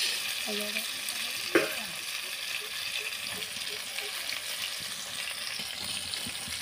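Rohu fish pieces fry in a pan with a soft, even sizzle and a single sharper clatter early on, close but fairly quiet, with faint background voices.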